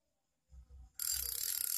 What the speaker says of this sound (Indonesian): Ini dia suara clikernya.